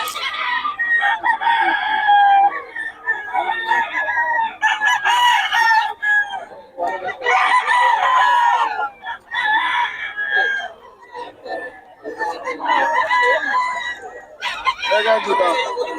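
Roosters crow loudly again and again while chickens cluck between the calls, close by, with some voices mixed in.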